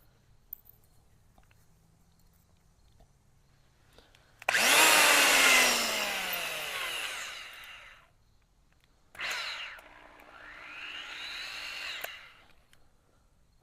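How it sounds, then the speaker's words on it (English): A power drill bores into metal bars on a car trailer ramp in two bursts: a loud, high whining run of about three and a half seconds that slows, a short pause, then a second shorter run. There is no talk. "this is one heck of a drill, and you either break a bit or break your wrist."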